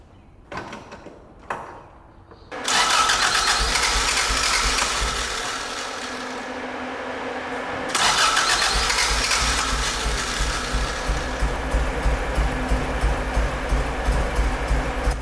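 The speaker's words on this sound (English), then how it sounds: "So I got it started, I got it kind of running" A Toyota AE86 engine cranks briefly, catches, and settles into a rough, uneven idle, loud and close, with a surge in revving partway through.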